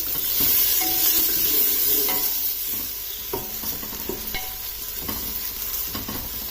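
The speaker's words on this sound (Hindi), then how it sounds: "अब प्याज को इसमें लाइट गोल्डन ब्राउन कलर होने तक इसमें कुक कर लेना है।" Steady sizzling of onions frying in a pan toward light golden brown, with a spoon scraping and stirring at irregular intervals, close and continuous throughout.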